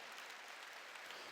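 Applause from a church congregation during a sermon, a steady dense wash of many hands clapping together, fairly faint and even throughout with no voices over it.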